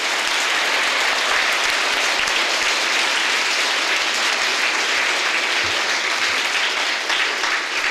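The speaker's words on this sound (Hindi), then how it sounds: "इसलिए हम बहुत खुशी से इसको स्वागत और अभिनंदन करते हैं, जोर से ताली बजाते हुए।" An audience at a church gathering applauds loudly to welcome an archbishop, a dense, continuous wash of many hands clapping that holds steady throughout.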